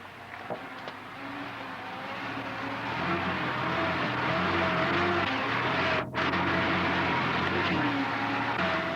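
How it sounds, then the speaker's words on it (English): Toyota Land Cruiser creeping over rocks in four-wheel-drive low range, a steady low engine drone that builds slightly and holds, heard close with faint road-like rumble and no talk. "Select four-wheel drive low range, use the throttle sparingly, and allow the vehicle to creep over the rocks under the combined force of engine"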